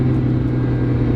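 A Mazda Miata engine rumbles while driving, a loud low steady drone from inside the car over a brief moment, no talking.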